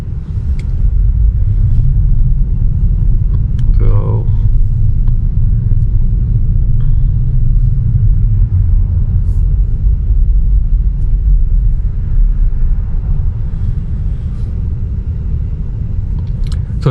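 Inside a Tesla driving itself on FSD 12.5, a loud, steady low road rumble and tire drone persist throughout, with a faint brief sound partway through and no talking.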